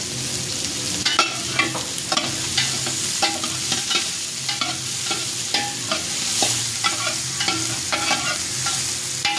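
Onions frying in a pan for Bicol Express give a steady sizzle, broken by repeated scraping strokes of a spatula stirring the pan at close range.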